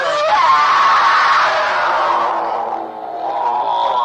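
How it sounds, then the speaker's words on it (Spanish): Screaming from a recorded exorcism: a harsh, strained voice wails loudly and continuously for about four seconds, dipping briefly near the end before rising again. "Buah, cada vez los gritos esos son espeluznantes, ¿eh?"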